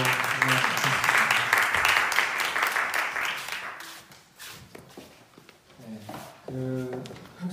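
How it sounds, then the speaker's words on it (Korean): Church congregation at a Sunday service applauding, a dense burst of clapping that fades after a few seconds into scattered claps and room noise, with a voice speaking near the end. "한 해 동안 고생했다고 다시 한번 박수로 인사드리겠습니다."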